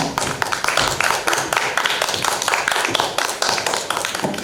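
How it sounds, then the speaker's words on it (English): Audience applause fills a film festival Q&A session with directors in Cyprus, steady dense clapping from a sizable crowd with sharp individual claps standing out, sustained throughout without pause. "Can we have another round of applause"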